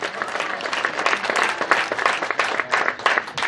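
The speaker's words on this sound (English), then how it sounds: "Please clap for that Lukbara woman." Dense applause and clapping from a large crowd at a National Unity Platform political rally in Uganda, continuous and loud for the full stretch with bright, crackling hand claps and no clear pauses.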